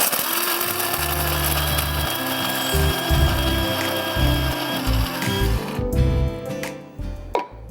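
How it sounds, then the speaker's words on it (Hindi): Almonds are ground in an electric grinder, a loud rattling whir running in several pulses before the motor stops and the last pieces settle. "1 कप बादाम है और मुझे 1 कप बादाम पिसे हुए चाहिए"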